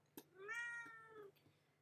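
A house cat gives one clear, drawn-out meow, close and fairly quiet, with a faint steady hum in the background and no talking.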